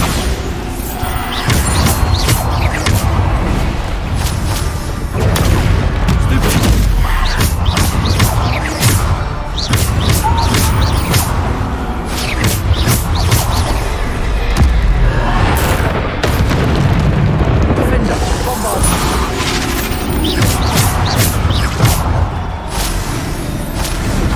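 Bombarda spell explosions in the video game Hogwarts Legacy, a steady string of loud booms and crashing thuds that keep going with almost no pause, dense game combat effects continuing throughout.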